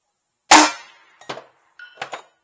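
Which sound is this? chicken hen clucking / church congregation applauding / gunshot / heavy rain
gunshot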